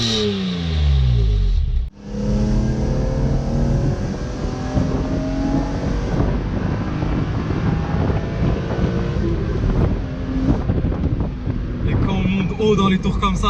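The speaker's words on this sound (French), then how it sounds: "Dans les tours comme ça, c'est là qu'on entend bien ce petit V6 Atmo, ce petit 6 cylindres en ligne Atmo." A BMW M3 E46 with a naturally aspirated inline-six pulls hard, with a sustained rising engine note after a brief dip in sound. Wind buffets the microphone and a voice speaks over the engine.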